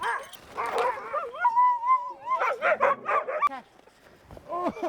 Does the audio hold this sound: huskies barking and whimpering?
yes